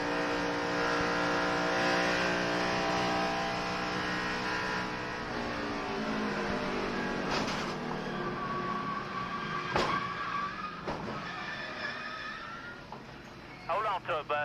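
An in-car view of 2006 NASCAR race cars crashing carries a loud, steady engine drone that shifts in pitch, broken by a few sharp impacts toward the end, while a voice talks over it.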